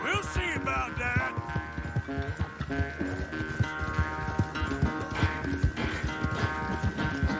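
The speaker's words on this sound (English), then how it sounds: "Que no ves cómo zumba mi caballo" Horse hooves clip-clop at a gallop in Red Dead Redemption 2, a steady rhythmic beat running under loud game music with a possible brief whinny.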